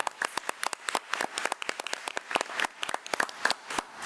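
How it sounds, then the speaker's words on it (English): A small audience claps in applause at a regular school board meeting, dense, even clapping from a room of people held steadily at moderate loudness, with no talk over it. "Let's give Amara another round of applause."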